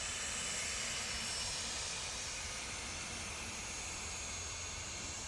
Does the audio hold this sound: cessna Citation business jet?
yes